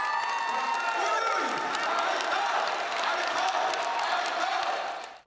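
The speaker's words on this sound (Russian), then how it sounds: "он завершился под бурные аплодисменты и продолжительные овации" A concert audience at a Yakut singer's show in Moscow breaks into loud, sustained applause with cheering and whoops, a thick wall of crowd noise that holds steady and then cuts off.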